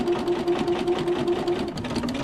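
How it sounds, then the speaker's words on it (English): A sewing machine stitches through a fabric dish mat a quarter inch from the edge, running in a fast, steady, close mechanical whir with rapid needle ticks throughout. "I am just sewing about a 1/4 inch in from the gray."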